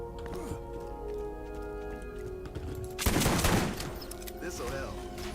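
A Thumper Hellfire SMG fires in Borderlands, a loud rapid burst of automatic gunfire about a second long, partway through, over game music and effects.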